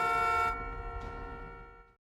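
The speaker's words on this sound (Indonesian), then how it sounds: "sehingga klakson truk tersebut berbunyi" A single sustained horn blast with a rich tonal buzz cuts off after about half a second, followed by a ringing decay fading to silence.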